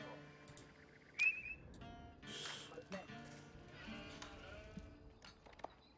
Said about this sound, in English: So we've got 5 sheep for Encrypted coming back to base.